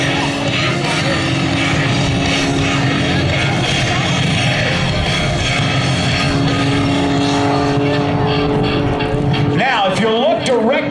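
Aerobatic airplane with a 327-horsepower engine at an air show, a loud continuous engine roar throughout with shifting pitch and a rising whine near the end; a voice talks over it.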